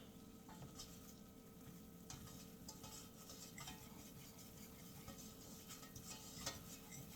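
A faint, close scraping and clinking of a utensil stirring bubbling food in a pot, with a soft sizzle underneath and no voices.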